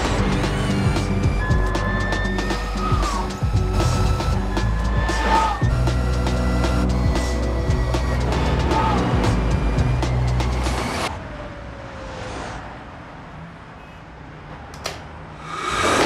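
A Harley-Davidson LiveWire electric motorcycle rides with a loud whirring electric whine that glides up and down over road rumble, then suddenly drops to a quieter, distant hum.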